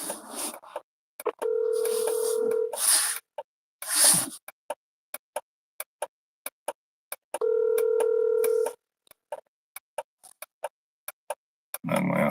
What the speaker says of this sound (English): I need to call the customer.